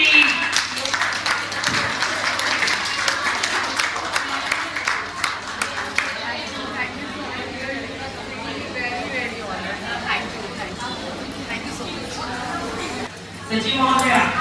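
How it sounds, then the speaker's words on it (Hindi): An audience at a Women's Day society event gives applause, steady clapping and crowd chatter during the first half that fades into background murmur, with a speaker talking over it. "जोरदार तालियों के साथ"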